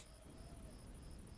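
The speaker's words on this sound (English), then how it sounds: "I like the crickets." Crickets chirp steadily in the night ambience of an indie horror game, a faint, continuous high trilling over a low background hum with no talk.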